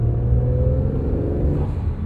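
A 2022 Acura NSX Type S engine rumbles and revs with a low, steady growl and turbo noises, holding loud and close throughout.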